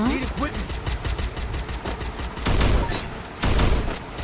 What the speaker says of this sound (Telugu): ఇంకే వించెస్టర్ ఇప్పుడు కొడతా.